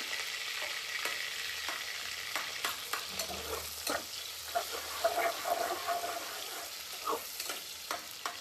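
Finely chopped onion frying in oil for dhaba-style chicken masala, a steady sizzle broken by repeated scraping and stirring strokes of a spoon against the pan, close and clear with no talking.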